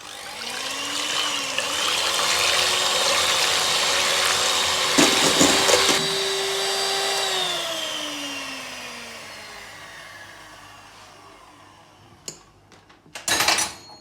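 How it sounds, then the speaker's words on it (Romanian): An electric hand mixer beats eggs into foam for a walnut cozonac, whining steadily with its pitch climbing then sliding down as it slows, followed by a few sharp clatters of the bowl and beaters at the end. "începem să batem ouăle spumă"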